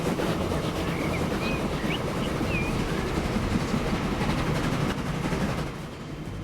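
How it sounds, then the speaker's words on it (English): A train in the video game Transport Fever runs steadily with a continuous low rumble and rolling rail noise, with a few faint high whistles or squeals above it, easing off slightly near the end. "let's press play and get the train going"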